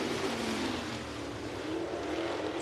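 Dirt track race cars roar through a green flag restart in a Nebraska main event, a dense, steady wall of engine noise with no clear individual cars standing out.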